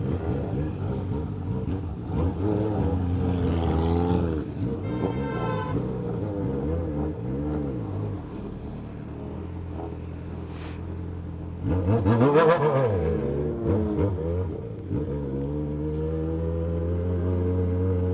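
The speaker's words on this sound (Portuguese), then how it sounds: "moto do menino saiu levantando a frente, parceiro. O bagulho remapeado tá mal canhão" Remapped Yamaha XJ6 and Honda Hornet motorcycles accelerate hard, one lifting its front into a wheelie, with loud rising engine revs, gear shifts and a sharp surge near the middle.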